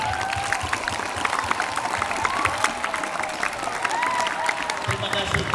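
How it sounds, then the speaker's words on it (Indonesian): A school audience at a student council election event applauds a guest speaker with dense, continuous clapping, mixed with crowd voices and some cheering throughout. "Tepuk tangan dulu untuk Pak Situmorang"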